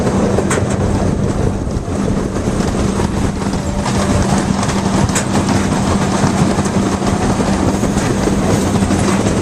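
A train rolling along tracks near a zoo, a loud continuous rumble with steady rail noise and faint clickety-clack throughout, close by and unbroken.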